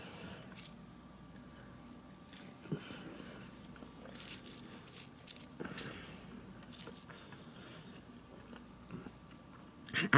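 Someone chewing cooked asparagus close to the microphone, with soft wet squishes and bites coming in irregular bursts, one louder crunch near the end.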